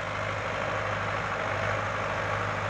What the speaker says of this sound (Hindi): सोनालिका कंपनी का काफ़ी दमदार ट्रैक्टर है।